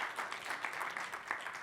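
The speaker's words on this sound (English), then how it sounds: "And so why don't you all give Sid a huge round of applause from Hilo." A conference audience applauds in a large hall at a tech keynote session, steady dense clapping throughout with a few sharper claps standing out, moderately loud and continuous.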